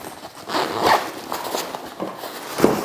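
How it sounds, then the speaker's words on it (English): A zipper is pulled along a camera sling bag, close and crisp, with a few rasping strokes and small handling rustles. "You got a zipper here."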